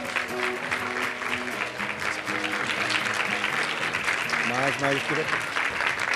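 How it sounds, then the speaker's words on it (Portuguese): An audience claps steadily for exhibitors at the 2nd Business Fair in Alegre, with voices and tonal background sounds running through the applause. "E uma salva de palmas para esse cara aqui"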